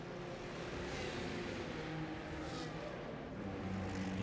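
A Formula 1 car in an F1 video game at the Austrian Grand Prix pulls into the pits, its engine a steady, loud droning whine held throughout with a slight swell as it passes.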